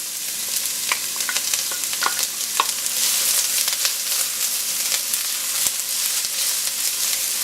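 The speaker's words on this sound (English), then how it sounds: "Our oil is nice and shimmery, so we'll add our onions" Chopped medium onion sautéing in shimmering hot oil for chicken tikka masala, a steady close sizzle broken by scattered crackles and occasional scrapes of stirring, no voices.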